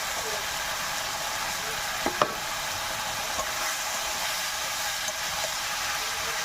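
A fish head is added to a pan of pumpkin and Malabar spinach and stir-fried, giving a steady, even sizzle with a couple of light knocks and scrapes from a spatula.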